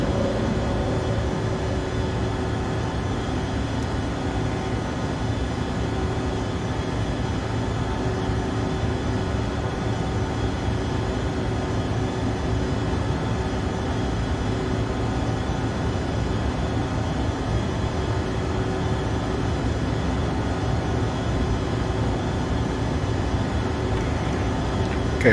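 Steady cabin drone of an Embraer ERJ 145LR regional jet climbing after takeoff in the X-Plane 12 flight simulator, a continuous even engine hum with no talk.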